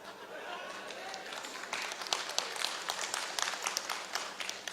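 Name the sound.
audience clapping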